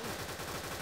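Rapid automatic Uzi fire in a Roblox zombie game, a dense continuous burst of close gunshots with no talk.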